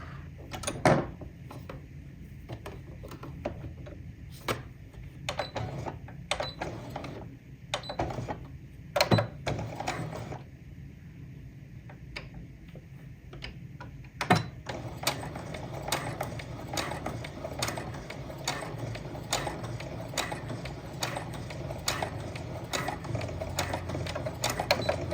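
A domestic sewing machine stitches fabric for a dinosaur-print apron, running in short mechanical bursts with clicks and clunks between them, then settling into a longer steady whirring run. The sound is close and fairly quiet.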